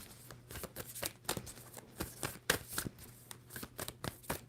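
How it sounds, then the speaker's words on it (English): Tarot cards shuffled by hand, a soft continuous riffle of quick papery flicks and taps with a steady uneven rhythm, close and fairly quiet, with no talking. "2 more shuffles for Taurus."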